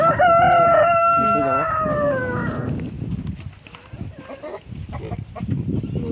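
A rooster crows loudly and near at the start on a farm keeping ducks and chickens together, followed by scattered clucking and general fowl noise at lower level.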